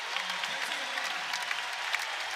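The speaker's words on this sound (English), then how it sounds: "Baco checks out to a warm round of applause" Warm round of applause from a basketball crowd at an Indiana versus Eastern Illinois men's game as a player checks out, dense steady clapping filling the arena for a couple of seconds.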